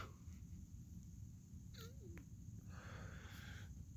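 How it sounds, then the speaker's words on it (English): A faint cat meow with rising and falling pitch near the middle, over a steady low background hum. "I don't know if y'all can hear my cat meowing"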